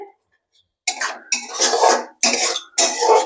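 Onion and pasted tomato stirred in a cooking pan for chana masala, giving several close scraping, sizzling bursts of rough noise after a short quiet start, with no talk over them.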